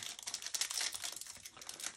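Foil baseball trading card packs are ripped open with continuous crinkling and crackling wrapper sounds, close and fairly quiet, with no talking.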